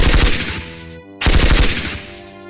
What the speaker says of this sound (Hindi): फिर उस आदमी ने उस औरत को देखा और अगले ही पल फायरिंग शुरू कर दी।